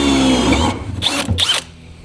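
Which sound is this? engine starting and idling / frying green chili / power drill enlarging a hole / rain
power drill enlarging a hole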